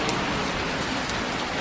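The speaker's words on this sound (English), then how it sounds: "I think there's a little thread of the rain running under the table too now." Steady rain pattering on a nearby surface, dense and continuous, heard alone.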